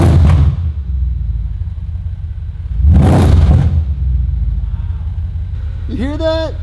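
Mercedes C63 Black Series V8 engine, modified for more power, rumbles at idle and surges loudly in two short rev blips, heard close with a voice speaking near the end.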